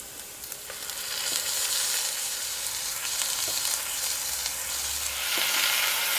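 Beef browns in a pan with onion and garlic for a Tex-Mex chili-style stew, a loud continuous sizzle with occasional stirring scrapes, close and without talk.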